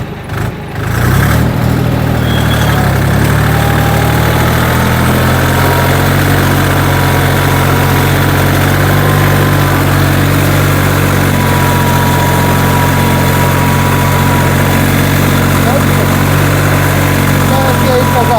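A YTO 244 SX tractor engine labours steadily in a raised first gear while ploughing, a loud, continuous low drone with a steady hum that runs unbroken throughout after a brief rougher start.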